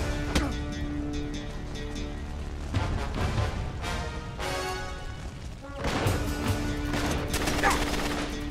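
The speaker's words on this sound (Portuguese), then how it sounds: "Estão lançando bomba" Bombs and heavy gunfire in the video game Uncharted 3: Drake's Deception, loud bursts of explosions and crashing impacts packed together over a dense battle din, with a faint voice under the chaos.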